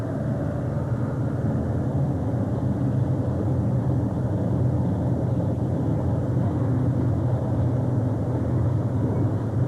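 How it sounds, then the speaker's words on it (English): A 1979 Ford pulling tractor's engine roars continuously down the track at a tractor pull, a dense low rumble heard from a distance and blended with crowd noise. "A beautiful pass for Holly as she moved right on down the track"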